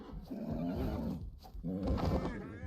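A horse neighs in a dinosaur video game, a faint, drawn-out whinny with wavering pitch, split into two bursts by a short pause.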